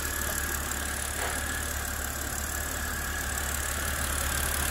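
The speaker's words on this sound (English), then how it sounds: "The engine sounds healthy, yeah." A BMW E92 325i engine idling steadily close by, a continuous low rumble with a faint ticking rattle, no talk.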